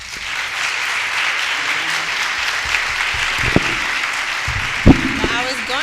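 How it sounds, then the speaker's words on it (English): An audience at a talk on the future of media gives steady, moderately loud applause throughout, and a voice comes in briefly near the end. "let's give a round of applause"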